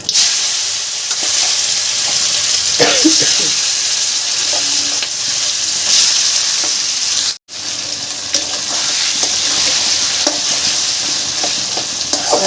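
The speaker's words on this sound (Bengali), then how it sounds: "এর মধ্যে আমি এই টানিয়ে রাখা কচুর শাকটা এবার আস্তে করে দিয়ে দেবো" Taro leaves (kochu shak) frying in a hot spiced pan, loud continuous sizzle with scraping stirs and brief clatter, one short break midway, no talk.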